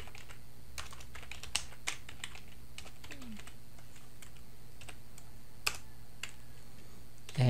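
Computer keyboard keys tapped while writing C++ code, sparse scattered clicks with irregular pauses over a steady low hum, fairly faint and without talk.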